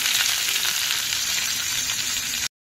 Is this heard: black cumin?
yes